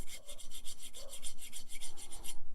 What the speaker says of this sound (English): Willow is going psycho at the door